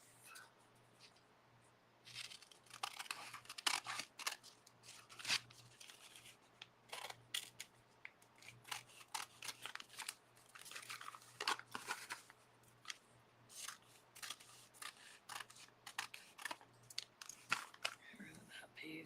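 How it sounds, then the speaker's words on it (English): Scissors snip through thin napkin paper in a series of quiet, irregular crisp cuts and crunches, close up, with a faint steady hum underneath. "Cut it off."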